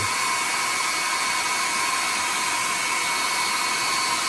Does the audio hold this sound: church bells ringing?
no